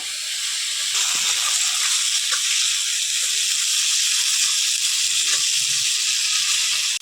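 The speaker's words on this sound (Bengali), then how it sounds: "জিরে আর ধনে একসঙ্গে বাটা তার মশলাটা ভালোভাবে কষিয়ে নেব" Ground cumin and coriander masala paste frying in a pan, giving a steady, even sizzle and hiss that runs close and unbroken from start to end, with no voices.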